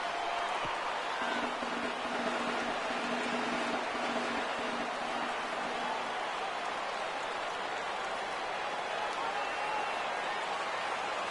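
Baseball crowd at a Cardinals–Marlins game in Miami rising and cheering for a 3-2 count, a steady wash of broad crowd noise that holds loud throughout, with a faint sustained tone early on.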